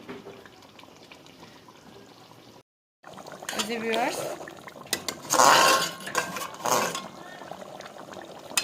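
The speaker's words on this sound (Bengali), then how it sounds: "এখন আমি মাংসটা একটু কষিয়ে নিব ভালো করে" Meat is sautéed in a pot with scraping, clattering stirring and a wet bubbling sizzle that swell loudly after a brief silence, with quieter kitchen noise before it.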